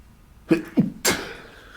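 A single sharp sneeze from allergies, with a short build-up breath, close and sudden, then quiet.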